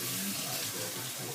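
Cold water poured from a cup into a hot pan of onions, a brief, dense, continuous splashing rush close by.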